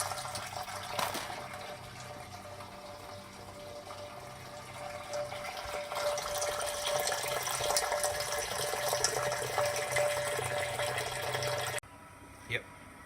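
Wort from a home-brew mash tun, pumped slowly into a boil kettle for a passionfruit beer, gives a steady nearby rush and trickle of liquid under a pump's hum, cutting off abruptly near the end with a clunk.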